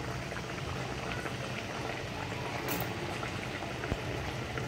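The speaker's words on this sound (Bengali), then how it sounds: "এই জন্য আমি কড়াইয়ে তেল দিয়ে দিয়েছি, তেল গরম হয়ে গেছে। এরপর আমি একটার পর একটা পিঠে ভেজে নেব।" Semolina kakhra pitha fry in hot oil in a wok over a medium flame, with a dense, continuous bubbling crackle at moderate loudness and no speech.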